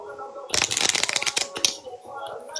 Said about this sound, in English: How many times you want me to shuffle?